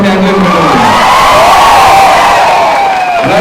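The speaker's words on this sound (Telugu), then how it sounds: "ఒకసారి వాళ్ళందరికీ మీరు చప్పట్లతో ఒకసారి థ్యాంక్ యూ" A crowd at a Telugu film platinum disc function claps, cheers and whoops loudly and continuously, with voices shouting over the applause throughout.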